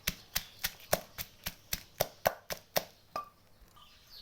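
Rapid, regular thuds of a pestle pounding chili and garlic in a mortar, about a dozen close strikes before they stop.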